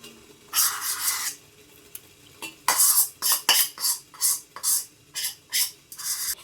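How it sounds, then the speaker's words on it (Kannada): Powders are stirred into melted glycerin soap for homemade natural soap, giving close, rhythmic scraping strokes against the vessel that grow regular, about two per second, in the second half, with no talking. "ಇದು ಹಾಕಿದ್ಮೇಲೆ ಕನ್ಸ್ಟೆಂಟಾಗಿ ನೋಡಿ ಈ ಥರ ತಿರುತಾ ಇರಬೇಕು"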